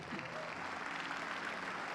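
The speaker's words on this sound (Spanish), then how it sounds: "Dale un fuerte aplauso." Congregation applause during an evening church service, a steady wash of clapping at moderate distance lasting about two seconds, with no clear voices over it.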